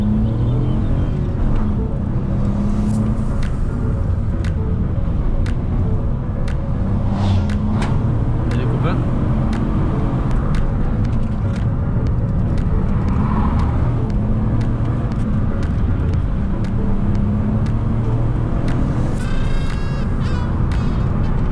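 A Toyota Yaris 4 with a 120 hp petrol engine drives along, its steady engine and road drone filling the cabin continuously, with scattered small clicks and ticks over the top and no voices.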